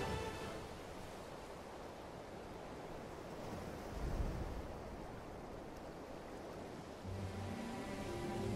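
Ocean waves from sailing the open seas in the video game Kingdom Hearts III, a steady rushing wash of surf and wind with a brief surge midway, no voices.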